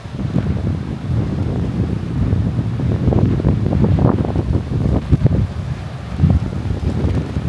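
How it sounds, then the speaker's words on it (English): Strong beach wind buffets the microphone in a constant low roar, with surging gusts and rumbling bursts throughout. "So windy. I hope my voice is not distorted."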